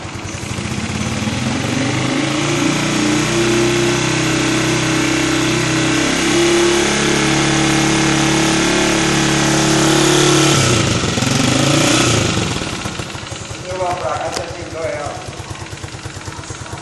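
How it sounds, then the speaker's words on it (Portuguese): A Honda CG motorcycle engine runs after a carburetor service, loud and close, holding a steady idle before briefly revving and settling again, with someone talking over it near the end. "tá aqui a motinha do seu Dalmir. CGzinha bolinha"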